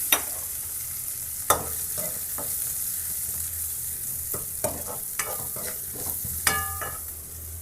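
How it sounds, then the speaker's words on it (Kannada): Mustard seeds and garlic sizzle steadily in hot oil for tempering, a close, continuous frying hiss broken by sharp pops and crackles and occasional stirring clinks of a utensil against the pan. "ಸ್ವಲ್ಪ ಎಣ್ಣೆ ಹಾಕ್ಕೊಂಡು ಸಾಸಿವೆ ಹಾಕ್ಕೊಳ್ಳಿ."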